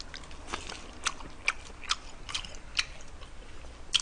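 Crisp, close bites and chewing of a salt-seasoned beef tenderloin steak dipped in sauce, a handful of sharp crunchy bites spaced about half a second apart with no talk.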